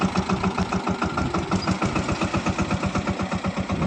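A tractor engine idles close by in a village, giving a steady, fast, rhythmic chugging that pulses evenly throughout with no voices.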